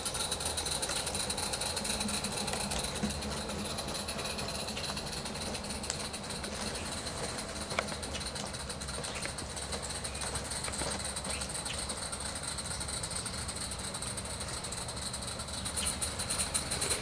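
A Lady Ann model locomotive runs continuously at a slow, steady pace, giving a dense, even mechanical chuffing and rumbling with a constant high whine for the whole stretch, and nobody speaks.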